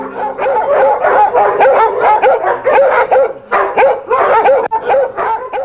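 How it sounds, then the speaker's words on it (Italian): Several farm dogs barking at farmhouses near Motovun in Istria, loud close rapid barks and yips overlapping in irregular bursts throughout, with no talk. "Troppi cani per ogni cascina."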